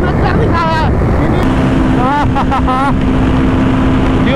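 Two motorcycles, a KTM Duke 390 BS6 and a 2024 Royal Enfield Guerrilla 450, in a drag race. A steady engine drone with rising and falling revs comes through under heavy wind buffeting on the microphone, with a voice briefly audible.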